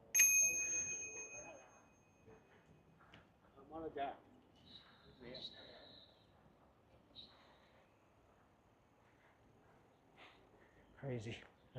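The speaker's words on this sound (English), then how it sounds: "Had to ring the bell with the selfie stick" A bicycle bell struck with a selfie stick gives a bright ring at the start that fades away, followed by brief rustles and handling noises.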